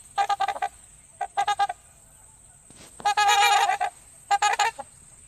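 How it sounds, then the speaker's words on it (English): A trumpeter swan calls in repeated bursts of nasal, trumpeting honks, loud and clear, grouped in short rapid runs with pauses between them. "Thora, you hear the distinctive call of a trumpeter swan, Mm. Oh. and it's honking at you"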